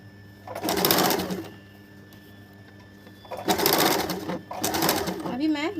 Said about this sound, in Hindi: अभी ये जो गोलाई है प्रिंसेस का, उसको थोड़ा धीरे धीरे पकड़ के सिलना होगा ताकि ये आगे पीछे ना हो जाए।